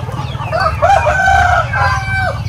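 A rooster crows loudly nearby with a long drawn-out call over a low background hum, amid chickens at a poultry farm.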